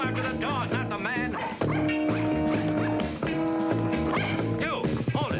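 A dog barks and yips repeatedly in a classic 1970s crime drama, short excited barks mixed with a busy, loud music score throughout.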